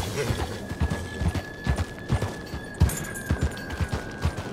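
Rhythmic horse hoofbeats clop along in a Red Dead Redemption 2 scene, with a steady tone droning underneath and occasional sharper thumps mixed in.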